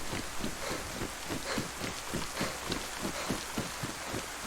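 Steady rain in the DayZ video game on Deer Isle, a dense continuous hiss of falling water with a faint rhythmic thumping underneath, no voices.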